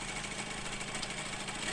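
A two-stroke disc valve parallel twin motorcycle engine runs at a steady, buzzing rasp, loud and continuous, with no speech over it.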